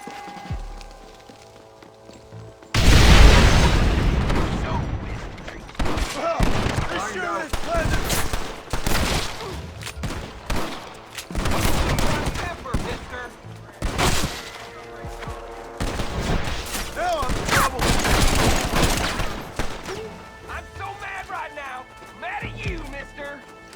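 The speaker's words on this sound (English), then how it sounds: "Explosions!" Explosions and bursts of gunfire from the game Red Dead Redemption, loud and dense with repeated sharp blasts and rattling shots, mixed with voices talking throughout.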